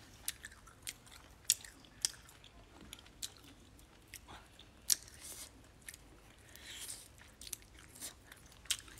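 Crisp, close bites and crunching chews on an unhealthy snack, irregular snaps spread across the stretch with quiet gaps between, no talking over them.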